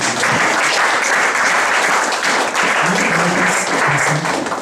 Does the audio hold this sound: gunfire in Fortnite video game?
no